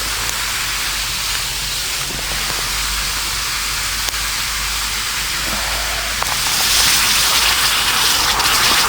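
Water boiling and hissing hard as hot rocks are dropped into it: a steady loud broadband hiss with faint thumps, swelling brighter near the end.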